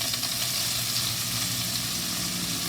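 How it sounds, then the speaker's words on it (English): Onions and peppers sizzle steadily in hot bacon fat for sautéed chicken, a continuous close frying hiss with a low background hum and no speech. "Now we're going to take the onions and the peppers and add them into our bacon fat"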